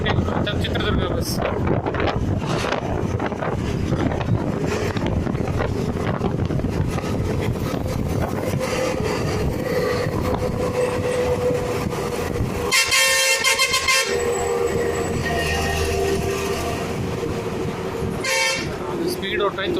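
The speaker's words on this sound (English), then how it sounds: "Let us see if this bus can overtake the Chitradurga bus." A KSRTC bus drives along a highway while overtaking another bus, its engine and road rumble running loud and steady under rushing wind, with a bright horn blast partway through and several short toots, and a voice talking over it.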